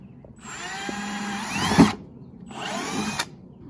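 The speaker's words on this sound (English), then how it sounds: "So this is a 3/8 inch drill bit" A power drill with a 3/8 inch bit whirs in two bursts, a longer one that strains and bogs down midway, then a shorter run after a brief pause.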